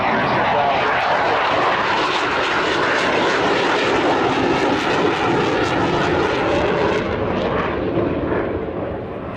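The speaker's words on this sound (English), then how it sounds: "I'm going to go quiet so you can hear the aircraft" A loud, steady roar of an aircraft engine flying past overhead, filling the air for several seconds before fading slightly at the end.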